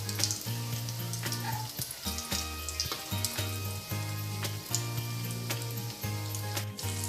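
Crispy stuffed bread rolls frying in oil over a medium flame, a steady close sizzle with scattered pops and crackles running continuously, no voices over it.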